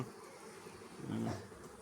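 Honeybees buzzing at an open hive while gathering pollen, a soft continuous hum with one bee droning briefly closer, quiet and without speech.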